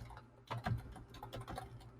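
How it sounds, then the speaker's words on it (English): Someone types on a computer keyboard nearby, a quick irregular patter of key clicks with a few heavier strokes, alone without speech. "He's typing, y'all."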